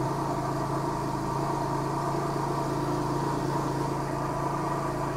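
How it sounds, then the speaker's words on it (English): Car engine idling on a cold start, a steady continuous hum with a constant low drone and no change in pitch or level, with no voices over it. "Engine's cold, so it's revved up."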